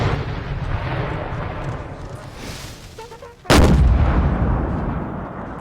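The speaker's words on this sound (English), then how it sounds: "Load it up. I want to see a volley." Booming artillery fire and musket volleys in the Napoleon Total War battle of Jena, 1806, rumbling continuously with one sharp, loud blast partway through and a long decaying roar after it.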